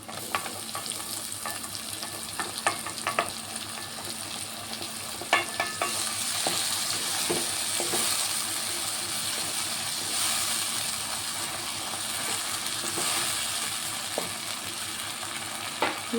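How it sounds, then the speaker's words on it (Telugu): Chopped tomato pieces frying in a pan for pasta, a continuous broad sizzle with scattered scrapes and clicks of a spoon stirring, close and steady with no talk. "ఇప్పుడు ఇందులో కట్ చేసుకున్న టమాటా ముక్కలు వేసుకుంటాను"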